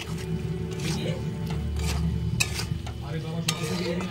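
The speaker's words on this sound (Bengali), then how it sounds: "বেশ করে কষে নেবো আমি মশলাটা।" Spice paste with sour yogurt being sautéed and stirred in a pan, giving a close, steady sizzle with scraping stir strokes and a few sharp clinks of the utensil against the pan.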